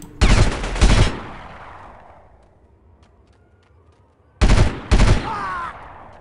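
Gunfire in the Delta Force 2 video game comes as two pairs of loud, close bursts separated by a long fading echo, with each burst cracking sharply against a quiet background.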